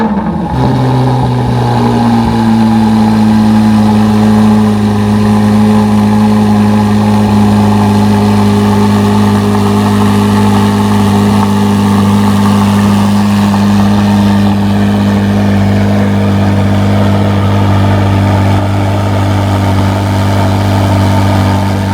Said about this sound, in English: I will do the remote start for you so you can hear the AWE switch path catback exhaust